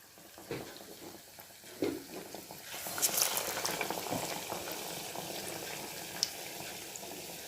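Potato slices dipped in thick gram-flour batter drop into hot oil for aloo bajji, a steady bubbling sizzle building up and holding, close and fairly loud, with no talking.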